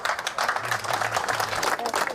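Outside a courthouse, relatives of a victim applaud a court verdict: fairly soft, scattered clapping from a small group, with murmuring voices underneath.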